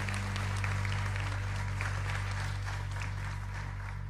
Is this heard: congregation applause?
yes